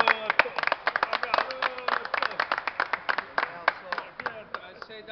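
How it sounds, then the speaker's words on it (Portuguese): A small group claps for a person at a casual amateur football gathering, quick uneven hand claps in a dense burst that thins out toward the end, close and fairly loud, with voices mixed in. "uma salva de palmas para o Nelson."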